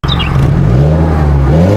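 A 2022 Mazda 3 hatchback with a 2.0-litre spark-controlled compression-ignition engine, six-speed automatic and all-wheel drive, revs loudly and close by. The engine tone rises steadily and holds as a continuous drone, with no talking.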